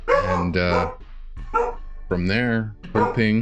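A dog barks a few times close by while someone talks over it, the yips mixed in with his speech.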